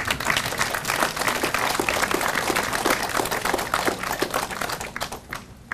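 An audience at the rededication ceremony of the Basedow monument claps in a dense, even burst of applause lasting several seconds before thinning out at the end.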